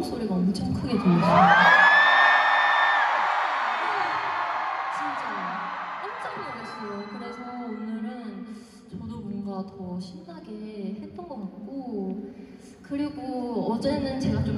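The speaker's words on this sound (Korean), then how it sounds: "오늘은 처음부터 인이어를 뚫고 함성 소리가 엄청 크게 들려요" Huge arena crowd at a concert in KSPO Dome screams and cheers in a loud surging roar that slowly fades, then a performer talks over lingering crowd noise.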